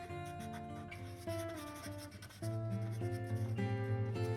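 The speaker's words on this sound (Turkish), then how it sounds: "Kalın kalemimle hemen bunları siyah boyayayım ki araya kaynamasın." A thick pen colors the inside of a drawing of Hunter Tim from Garten of Banban 3 solid black, giving a soft, steady scratchy rubbing on paper beneath background music.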